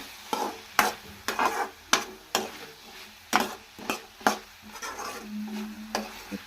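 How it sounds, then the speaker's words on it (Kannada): Potato masala fries in a pan while a utensil stirs it in regular scraping strokes, roughly two per second, over a faint sizzle. "ಇನ್ನು ಸ್ವಲ್ಪ ಫ್ರೈ ಆಗಬೇಕು"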